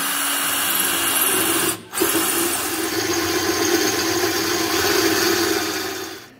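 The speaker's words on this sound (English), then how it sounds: "that'll give me an indication and I'll drill them out." A power drill whines steadily at close range, drilling metal brackets on a Triumph chopper build, stopping for a moment before spinning up again and running continuously.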